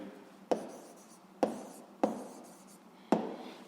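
A pen scratches a physics answer onto paper in four short, close strokes, each a sharp tap followed by a brief scrape, with quiet pauses between.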